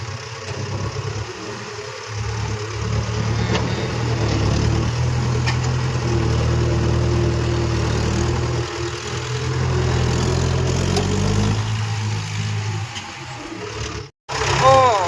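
An old tractor engine chugs steadily nearby with a low, rumbling idle that rises and falls slightly, and a voice talks over it at times.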